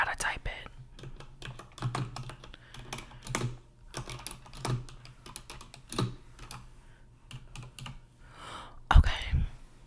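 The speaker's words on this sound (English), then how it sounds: "Relax, because I gotta type it." Computer keyboard typing in bursts of quick soft clicks, close and quiet, with faint whispering in a calm indoor setting during a phone call.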